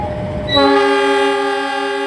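A passenger train horn blares loudly and steadily, its sustained multi-tone blast starting half a second in over rumbling rail noise.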